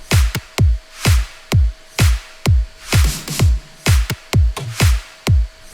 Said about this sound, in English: Here's the kick. Got the clap here. Got some snares. And then we can also add in these little percussions.